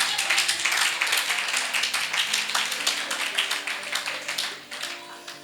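A church congregation claps together in a steady rhythm at a Sunday service, the fast even claps filling the room and carrying on without a break for several seconds.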